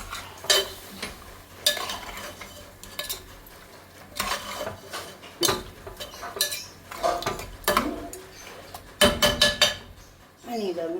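A spoon stirs beef roast with dry-roasted coriander powder in a pan, producing repeated scraping strokes and metallic clinks in an uneven rhythm, with quiet sizzling underneath.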